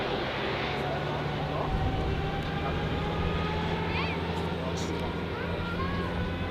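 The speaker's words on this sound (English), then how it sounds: "And here we have another A330 coming up." An Airbus A330 arrives at Zurich airport, heard as a steady broadband jet roar with a low hum, continuous and moderately loud from an outdoor observation deck, with faint voices in the background.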